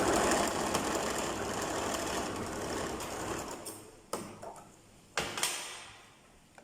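A sewing machine stitches the box pleat sections of a frock, giving a steady, close mechanical running whir for about four seconds before stopping, then only a few brief bursts of stitching follow.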